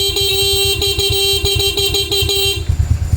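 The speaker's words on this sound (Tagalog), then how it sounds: "Kaya natin magbusina kung may natira pang kuryente para sa ating busina." Horn of a Honda Wave S 125 motorcycle, freshly rewired, sounding in a steady stuttering blare for about two and a half seconds, loud and close, then cutting off to leave engine rumble and handling noise.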